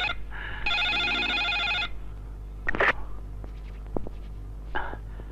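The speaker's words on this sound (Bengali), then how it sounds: "মনে হয় মন্ত্রী সাহেবের ফোন" A telephone rings twice in a short electronic trill, loud and close, then stops. A few brief knocks and clatters follow in a quiet room.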